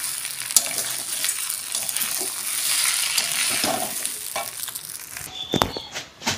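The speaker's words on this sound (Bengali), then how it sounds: "এবার চালটা দিয়ে ভালো করে আমি নেড়ে নেবো, তারপর জল দিয়ে দেবো।" Rice stir-fried in a pan for a Bengali fish-head murighonto, a close, continuous crackling sizzle with scraping stirs that peaks midway and then gives way to a few clattering knocks near the end.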